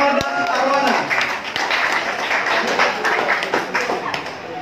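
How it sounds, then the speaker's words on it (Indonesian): An audience gives loud, lively applause, dense clapping that holds steady for several seconds while a host speaks over it. "Tepuk tangan yang meriah untuk Kampung Inggris Purnama dan Arwana"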